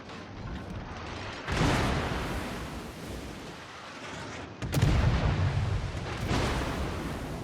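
Naval guns from a Fletcher-class destroyer in the World of Warships battle, firing blind into smoke: heavy booming salvos under a steady rumble, with strong blasts landing near 1.5 and 4.7 seconds and a fainter one toward the end.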